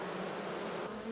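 Honey bees buzz steadily and close during a hive inspection of a weak colony, a dense continuous drone with no speech.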